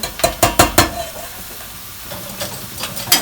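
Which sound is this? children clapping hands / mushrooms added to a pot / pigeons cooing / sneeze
mushrooms added to a pot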